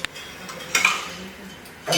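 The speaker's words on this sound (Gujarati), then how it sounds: "બહેનોને 3 વખત ચમચી વગાડ દેવાની" During a Bhagavat Katha ritual, members of the audience clink metal spoons, making a few scattered bright clinks over low room ambience.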